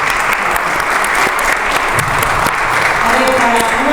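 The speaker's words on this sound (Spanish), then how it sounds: "Yo te aplaudo." Sustained audience applause at a round-table discussion on municipal revitalization and associations, a dense, loud, continuous clapping wash lasting throughout without letup.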